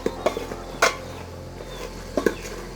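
A spoon stirs chicken curry (chicken saaru) in a cooking pot, giving a few sharp clinks and scrapes against the metal over a quiet, low background hum.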